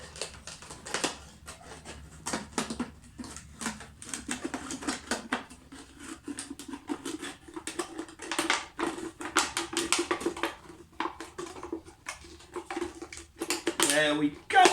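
Scissors snip and crunch through a plastic bottle in a series of irregular crisp clicks and crackles, close up, with speech over the cutting.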